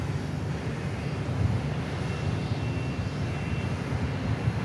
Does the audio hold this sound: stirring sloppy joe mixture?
no